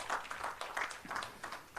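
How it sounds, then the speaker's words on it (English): Audience applause at an International Labour Day celebration, a brief, faint patter of clapping hands from a crowd, steady and distant. "Let's give them a round of applause."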